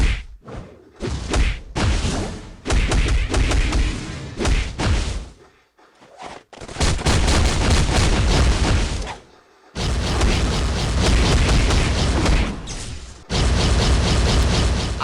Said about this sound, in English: Oh, he threw a car, and then it exploded.